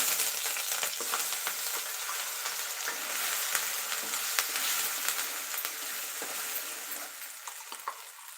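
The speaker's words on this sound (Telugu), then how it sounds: "ఇది పచ్చితనం పోయేంత వరకు ఇలా ఫ్రై చేసుకోవాలి" Ground paste of fresh coconut, onion, coriander seeds, urad dal and chana dal with curry leaves sizzles steadily in a pan for brinjal curry, a close, continuous frying hiss with light stirring scrapes throughout.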